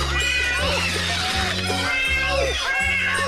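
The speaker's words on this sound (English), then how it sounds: "Mine pussy cat has just got loose." A cat meows repeatedly inside a comic 1981 song, its rising and falling cries riding over a steady, loud musical backing.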